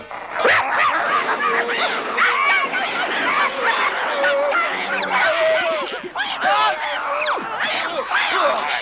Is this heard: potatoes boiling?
no